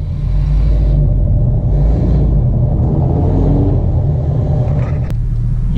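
A pickup truck engine rumbles steadily at low pitch while tugging a hooked-up fifth wheel trailer, a loud, constant drone close by with slight rises in revving and no talking.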